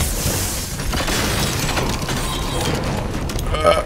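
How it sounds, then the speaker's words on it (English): Clockwork soldiers in Dishonored 2 shatter with a loud, dense crash of breaking metal and clattering mechanical debris that fills the whole stretch, with scattered crunches and a final knock near the end. "I have to admit the sound of them shattering is getting under my skin"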